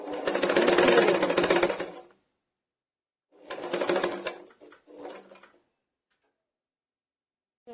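A sewing machine stitches a fabric bolster pillow cover in three close bursts, a long run followed by two shorter ones, with rapid ticking stitches and silent gaps between.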